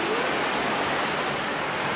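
Sea waves wash onto a beach in a loud, steady broadband roar of surf, close and continuous with no voices.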